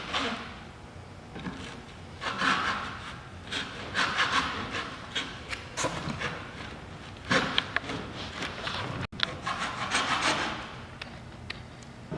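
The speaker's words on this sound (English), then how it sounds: "the big block of foam, like I said, we need to cut these notches in. Again, small strokes avoids you from bending your blade." A blade saws notches into a large foam block in short back-and-forth rasping strokes that come in uneven bursts. The sawing is close and even in level throughout, and no one speaks.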